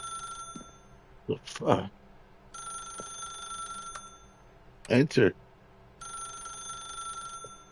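Telephone ringing in the video game The Stanley Parable, repeated bursts of electronic bell ringing in a steady pattern, with someone talking briefly between rings.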